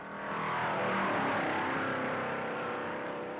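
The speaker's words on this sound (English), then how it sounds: "He stands on the throttle in the high bank groove." Race car engines roar at full throttle on the high banks of Darlington during the 1958 Southern 500, a steady loud drone that swells in quickly and holds, with no talking.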